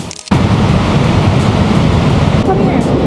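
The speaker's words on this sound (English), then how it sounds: "we're just behind the falls as you can see it's really impressive the power and the strength of the water" Niagara Falls roars from a spot just behind the falling water, a loud, steady broadband rush that starts abruptly and continues unbroken, with a voice faintly present beneath the torrent.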